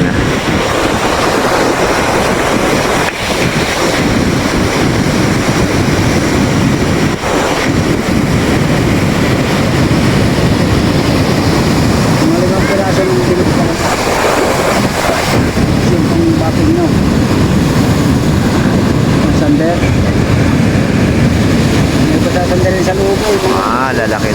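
Strong sea waves churned up by a typhoon roar and crash without a break, loud, close and broadband, while wind buffets the microphone and voices talk over it.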